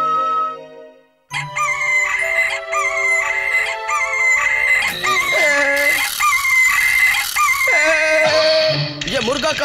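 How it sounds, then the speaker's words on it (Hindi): A cartoon rooster crows loudly several times in a row, long rising and falling cock-a-doodle-doo calls heard up close with no talk over them. "ये मुर्गा कहाँ से आ गया?"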